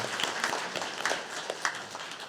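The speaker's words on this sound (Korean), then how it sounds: "축복하는 박수 한번 줍시다" A church congregation claps to bless a five-month-old baby who played the infant Jesus in a Christmas performance, with soft, scattered clapping and a few sharper claps standing out.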